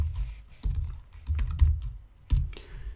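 Bursts of typing on a computer keyboard, close and crisp, with clusters of quick key clicks separated by short pauses and a few heavier taps.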